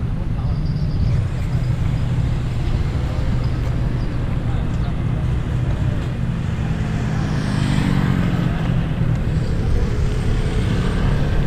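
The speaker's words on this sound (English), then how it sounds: "This bus right here will take you all the way to Mukdahan." A bus and road traffic in a Thai town rumble steadily, with engine drone and passing vehicles close by throughout, and a person talks over the noise.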